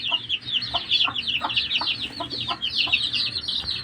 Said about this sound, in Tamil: இதில் ஒரு 3 கோழி குஞ்சு இருக்குது